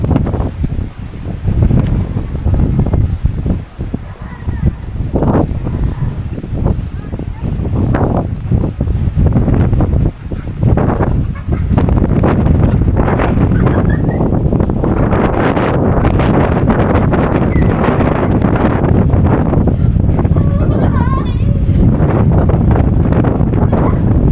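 Strong wind buffets the microphone with loud, gusty roaring on a seaside pier at Southend-on-Sea, and waves on the sea can be heard faintly beneath the gusts.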